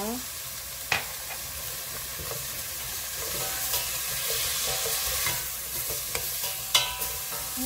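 Beef stir-frying with sliced radish and fine chilli powder for a Korean beef soup, giving a steady, soft sizzle with a few sharp spatula taps and scrapes scattered through.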